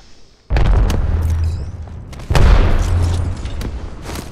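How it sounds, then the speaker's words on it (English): Two heavy booming blasts from an Arc Star grenade in the video game Apex Legends, the first at about half a second and the second near two and a half seconds, each with a loud rumbling tail, alone with no talking. "Throwing an Arcstar"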